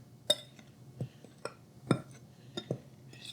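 Flour, instant yeast and salt stirred together in a bowl, a series of light scraping clinks at an uneven pace, quiet and close with a faint background hum.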